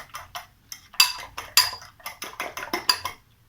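A whisk or utensil clinks rapidly against a bowl while beaten eggs are mixed during home cooking, a close, steady run of bright metallic taps with no talking.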